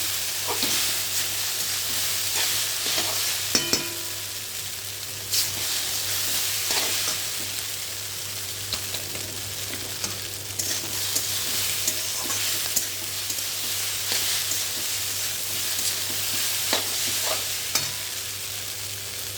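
Pasta and spices fry in a pan under a constant close sizzle, broken by light scrapes and clicks from gentle stirring.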